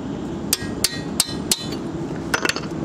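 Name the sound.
hammer lightly tapping a 14 mm wrench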